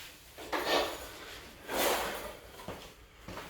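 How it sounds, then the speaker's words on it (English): Kitchen drawers opened and shut during a countertop replacement after water damage, giving two broad sliding scrapes, each a second or less, then a few short knocks as the drawers close. "Make sure my drawers are going to shut."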